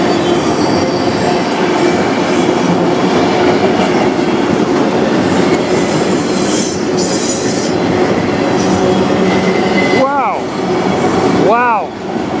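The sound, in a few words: CN train passing in Sarnia, Ontario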